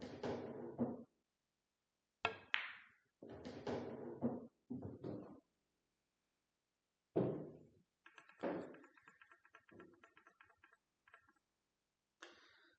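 Pool balls in a 9-ball game, including a stop shot on the 3 ball, give several sharp, quiet clicks and knocks, each separated by silence, with a cluster of lighter ticks near the end.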